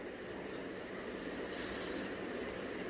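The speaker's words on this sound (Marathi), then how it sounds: "बस किती स्प्रे मारा तू" Aerosol spray can hissing in a short continuous burst over steady background noise, a louder spray surge in the middle, close by.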